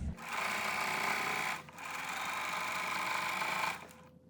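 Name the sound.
sewing machine stitching with back stitch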